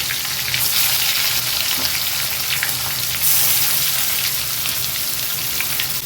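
Onions hit a hot pan alongside masala-stuffed bitter gourds in a home kitchen, a loud, steady frying sizzle that surges brighter partway through and continues without talk.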